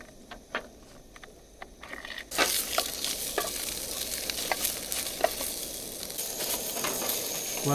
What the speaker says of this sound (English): you may hear the burst of the stove going and sizzling of the sausages